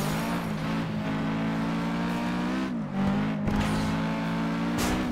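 A light race car's engine in the FlatOut 2 driving game: a steady, loud, droning whine that holds its pitch, dips briefly, then surges back as the car accelerates, with no one talking.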